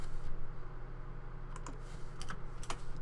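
Fast typing on a computer keyboard while entering an Instagram PNG search, a close, soft patter of key clicks with a few sharper taps near the end.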